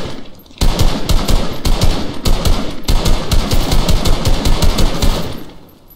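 Rapid automatic gunfire from the video game Fortnite, a loud sustained burst of closely spaced shots running almost without pause for several seconds before fading out.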